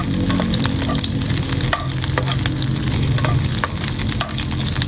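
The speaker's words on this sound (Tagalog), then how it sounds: "Simplahan natin ang pagluluto ng ating pizza sauce" Homemade tomato pizza sauce made from fresh tomatoes and a little tomato paste bubbles in a pan, a steady sizzle broken by repeated scraping strokes of a spoon stirring through it.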